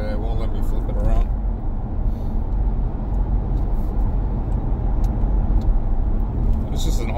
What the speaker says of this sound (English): This is an awesome car.